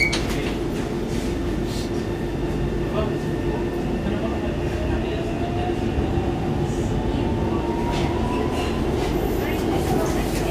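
A DLR B23 stock train pulls out of King George V station: a steady, loud rumble of wheels and motors fills the carriage, with faint rising motor whine and indistinct voices in the background.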